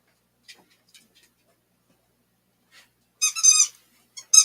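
A squeaky dog toy gives short, high, sharp squeaks: a few faint ones early on, then a louder burst of squeaks near the end, with silence between them and no talking.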